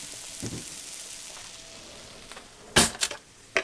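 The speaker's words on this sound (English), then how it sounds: "Now that the onions have a little bit of color to them, we're going to take a spoonful of butter" Onions fry in a pan with butter, giving a steady, faint sizzle throughout, with a few sharper crackles and clatters toward the end and no talking.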